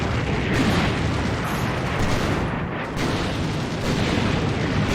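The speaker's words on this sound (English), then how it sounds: "the mortar barrage is over now" Mortar barrage in a war video game, a dense continuous rumble of overlapping explosions and booms with brief dips, loud and unbroken throughout.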